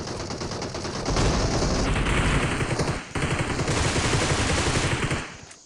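Gunfire in the PUBG Mobile video game, loud rapid automatic bursts firing almost continuously, with one brief gap before the shooting resumes and then fades out.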